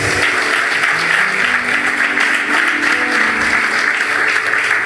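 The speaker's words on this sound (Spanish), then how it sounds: "Aplauda eso si lo desea." A church congregation applauds steadily during a Spanish-language sermon on family blessing, a dense, sustained clapping that stays loud and even from start to finish with no talk over it.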